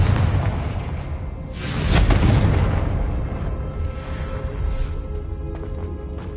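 A Confringo blasting spell explodes in Hogwarts Legacy, a loud booming burst that swells and rumbles for a couple of seconds before fading into a lingering low rumble over background game sounds.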